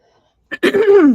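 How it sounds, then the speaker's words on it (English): A single close, loud throat clearing, a short rasp followed by a low, rough rumbling hum. "me clearing my throat"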